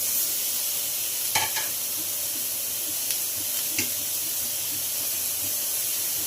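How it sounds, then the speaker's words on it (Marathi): Onion and tomato frying in oil give a steady loud hiss and sizzle, broken by a few scraping stirs. "कांदा टमॅटो आता सेपरेट भाजून घेते कांदा टाकते"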